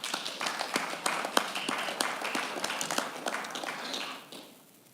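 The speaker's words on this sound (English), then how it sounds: "let's give them a round of applause again" At a conference panel session, an audience claps for the panelists. The scattered, moderately near claps fade out toward the end.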